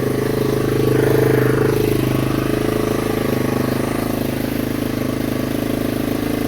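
Yamaha XT225 motorcycle engine idling steadily after a cold start following ten months of sitting, a close, even mid-pitched putter that swells slightly then settles.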